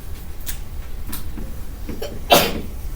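A single short sneeze bursts out near the end, over quiet room tone with faint rustling beforehand.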